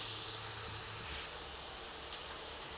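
Chicken curry (idli chicken kuzhambu) cooking in a pot, giving a faint, steady hiss of bubbling and steam, close but quiet, with no voices.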